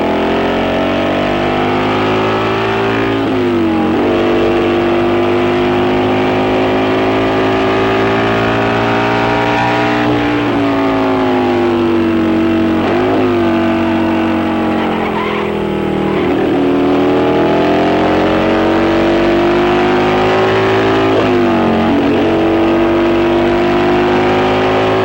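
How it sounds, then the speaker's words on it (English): Highly tuned road racing motorcycles with wind-cutting fairings scream past at speed, engines wailing loudly and continuously with rising and falling pitch as they shift and pass, no talking. "road racing, riding very special, highly tuned machines with fairings to cut the wind"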